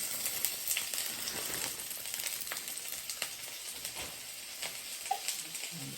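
Chopped peppers and onions sautéing in hot oil in a Le Creuset Balti dish, a steady close sizzle with faint crackles and occasional soft pops throughout.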